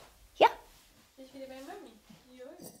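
A sled dog gives one sharp bark near the start, followed by whining, yelping calls that rise and fall. Voices sound nearby.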